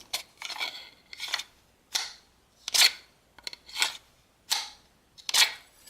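A series of about eight sharp metallic scraping clicks as a Benchmade SOCP 179 rescue hook tool is drawn from and snapped into its sheath, close and crisp with short pauses.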